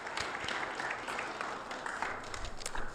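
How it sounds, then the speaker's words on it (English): A crowd applauds student body candidates at a university roundtable, a moderate, fairly distant wash of clapping that stays steady for the whole stretch. "let's go ahead and get a round of applause for all of our candidates"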